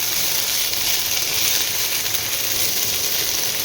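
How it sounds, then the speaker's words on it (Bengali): Spicy semolina (suji) frying in a pan with vegetables, onion and chopped green chilli, giving a steady, close, even sizzle and hiss that holds throughout without pause. "এটা একটু ফ্রাই করে নিই"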